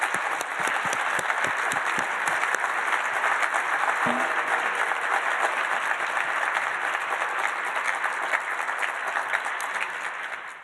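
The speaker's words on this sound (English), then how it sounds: "Let's give them a round of applause" An audience applauds the panelists at the close of an evening discussion on the degeneration of democracy, a dense, sustained wash of clapping that stays strong throughout and fades slightly at the end.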